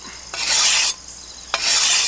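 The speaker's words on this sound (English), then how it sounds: "see what it's doing to the stone? These soft Arkansas stones get pitted easy." A hand weeding tool is sharpened on a soft Arkansas stone in two loud, close, hissing rasping strokes separated by a short pause.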